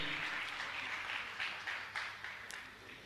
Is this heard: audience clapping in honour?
yes